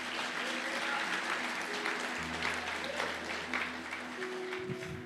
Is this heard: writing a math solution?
no